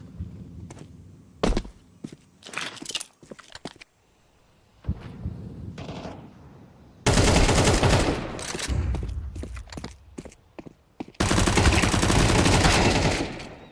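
Rapid SMG fire in a competitive shooter game crackles in bursts, with short sporadic shots early on, then two long sustained sprays, loud and close, with game effects between them.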